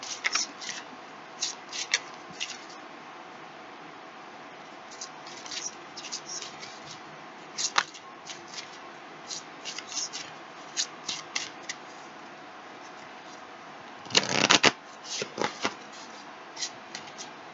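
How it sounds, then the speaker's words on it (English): Tarot cards are shuffled close and softly, giving repeated riffling bursts and crisp flicks with a louder flurry near the end over a faint steady hiss. "now let's pull some more cards before we get into that one"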